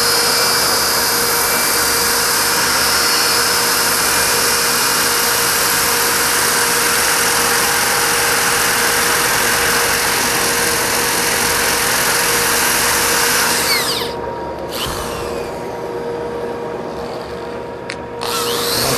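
Power sander working wood with sandpaper grit, a loud steady whirring drone that runs nearly throughout, then cuts out briefly near the end before restarting.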